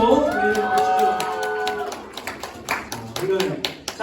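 Applause from a church high-school group breaks out after a voice finishes, scattered claps continuing for a few seconds with some chatter mixed in.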